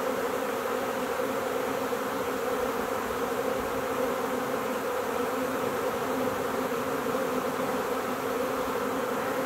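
A honeybee swarm buzzes around a hive in a dense, continuous hum that stays steady and fairly loud throughout, with no voices.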